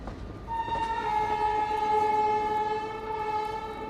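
A train pulling into Teen Pahar Junction railway station sounds a long, steady multi-tone horn over a rumbling rail background, loud and sustained for several seconds.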